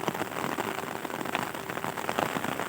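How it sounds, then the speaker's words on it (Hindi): Steady, loud downpour drums on surfaces in a Punjabi village in Pakistan, an unbroken wash of close raindrop patter filling the short stretch without any speech. "खूबसूरत बारिश है बारिश तेज़ हो गई चंगी भली स्पीड फड़ गई है"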